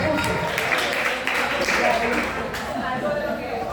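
Church congregation applauding, a dense, steady burst of clapping from a crowd with voices mixed in, loud and close throughout.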